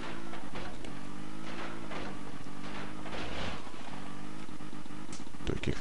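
Snowmobile engine in the video game Tomb Raider 2, a steady droning hum with a rising and falling pitch that runs throughout, loud and close with no talk over it.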